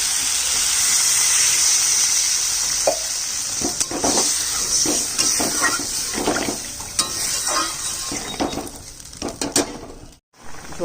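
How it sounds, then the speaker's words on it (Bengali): A pan of curry gravy with Kashmiri chilli powder and water boils and sizzles with a steady hiss, broken by intermittent clinks and scrapes of a spoon stirring against the pan, with no voices. "ঝোলটা ফুটে গেছে।"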